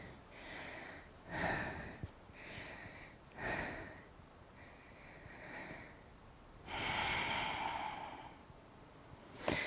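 Breathing during a yoga practice, heard as several slow, audible breaths and exhales, sigh-like and snorting, spaced a few seconds apart. They are fairly close but soft, with no talking between them.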